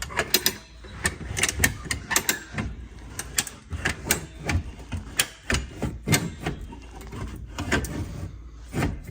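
A hand-operated cable winch ratchets repeatedly while tensioning a Volvo front suspension at the subframe, giving a series of sharp clicks in uneven bursts at close range.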